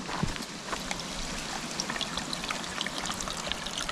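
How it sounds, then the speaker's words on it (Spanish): Steady trickling and burbling of a small stream flowing along a hiking trail near Vallvidrera in Catalonia, a continuous close water sound with no speech. "Hay movimiento de agua, o sea que hay corriente."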